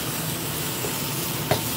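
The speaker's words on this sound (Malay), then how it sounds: "Ni kita tumis sampai dia naik bau" Shallots stir-fried in a pan for Thai-style pad kra pao with minced beef, giving a steady close sizzle with light stirring and one brief scrape of the utensil near the end, no talk.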